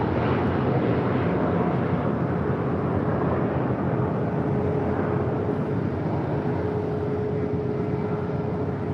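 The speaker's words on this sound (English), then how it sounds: "Dreamliner making those final turns, heading into the gates of Tom Bradley" A Boeing Dreamliner taxiing into the gates at Tom Bradley airport gives off a constant loud engine rumble and whine, steady and unbroken, with no voices.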